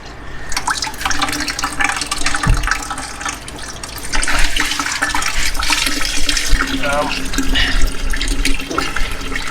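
Steady splashing and trickling of coolant draining out of a car, with a broad wet hiss and occasional drips close by.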